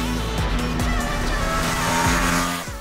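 A motor vehicle engine, presented as an Aprilia RS 457 motorcycle, revs hard and steadily for nearly three seconds, loud and close, with rising and falling pitch sweeps and no talk over it.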